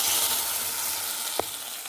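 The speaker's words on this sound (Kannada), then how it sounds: "ನೋಡಿ ಆ ಥರ ಶಬ್ದ ಬರಬೇಕು ಒಗ್ಗರಣೆ ಮಾಡಿದಾಗ" Mustard seeds, cumin, curry leaves and two chillies frying in hot oil as a tempering for sambar, giving a steady close sizzle with a brief stir or clack near the end.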